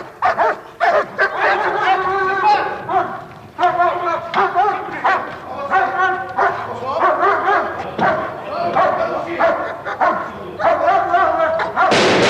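A police attack dog barks in loud, rapid bursts of deep woofs and yelps, close by, with voices speaking at times over the barking.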